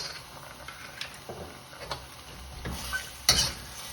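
Chicken with pineapple and pickled ginger simmers in a pan, a soft bubbling sizzle under intermittent scrapes and clinks of a utensil stirring against the metal, with a sharper knock near the end.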